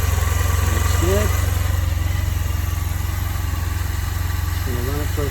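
A 2009 Honda Silverwing scooter engine idles steadily with a smooth, even low rumble throughout, close by, while brief squeaky chirps sound faintly on top.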